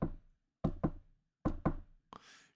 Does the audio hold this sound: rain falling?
no